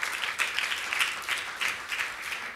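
An award-ceremony audience applauds at the 2015 Izzy Award: dense, sustained clapping from many hands in a room, fairly loud and even throughout the short stretch.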